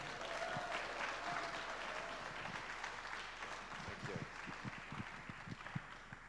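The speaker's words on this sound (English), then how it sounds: "Give a round of applause for Tim Wilson." A church congregation applauds, steady clapping that holds throughout at moderate volume with a few sharper individual claps standing out.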